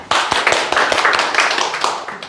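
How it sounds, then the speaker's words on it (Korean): Audience applause at a Korean business lecture, a short burst of dense clapping that starts abruptly and holds steady at a moderate level for about two seconds. "그럼 박수 한번 쳐보세요."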